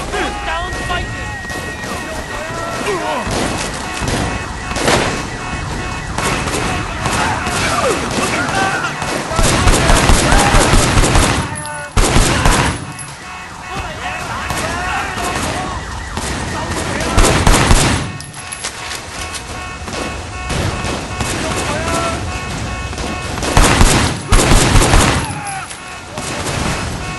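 Heavy sustained gunfire in the video game Sleeping Dogs, loud bursts of automatic weapons and crashing impacts throughout a long firefight, with shouting voices breaking in between volleys.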